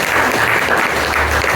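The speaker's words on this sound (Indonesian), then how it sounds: "tepuk tangan untuk beliau-beliau" Sustained applause from an audience at the opening session of a regional religious teachers' association work meeting in Purbalingga, a dense steady wash of clapping at full loudness throughout, with no speech over it.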